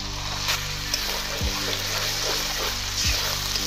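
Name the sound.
turmeric, chili powder, poppy paste and drumstick pulp frying in pan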